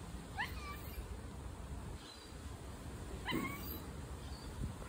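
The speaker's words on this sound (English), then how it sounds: "she's squeaking, making meows" A female cat meows in a garage, making a few faint, short squeaky meows spaced a couple of seconds apart, heard over steady background hiss and low rumble.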